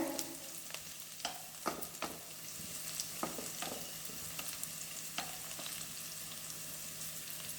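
Ground coconut paste is poured and stirred into sizzling appalam gravy, with a steady hiss of frying and repeated clicks and scrapes of a spoon against the pan.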